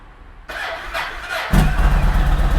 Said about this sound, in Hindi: Let's fire up the new motorcycle, the MT-01, and this is going to be the cold start.